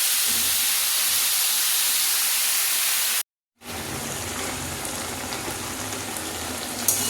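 Bottle gourd leaves (lau shak) cooking in a pan give a loud, close hissing sizzle, broken by a brief silent gap before the steady steaming crackle resumes.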